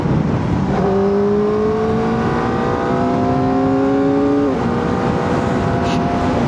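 A close, loud 2025 Kawasaki ZX-4RR sport motorcycle revs up with rising pitch, shifts once, then keeps climbing through the next gear under steady wind noise.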